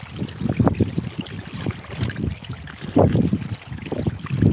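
Water gushes and splashes unevenly nearby from a borewell overflowing after heavy rain in Gir, Gujarat, surging in irregular bursts with a gurgling, churning quality.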